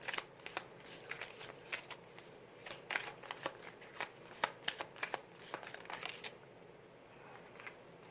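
Tarot cards are shuffled close by with quiet, repeated riffling bursts that fall into an irregular rhythm and then trail off near the end.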